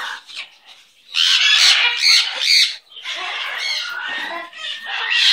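A pet bird squawks loudly and shrilly from its cage in long, harsh bursts separated by brief pauses, close and alone without talking.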